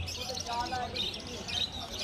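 Faint high chirps and tweets of many small birds at the Garia bird market, mixed with indistinct murmuring voices nearby.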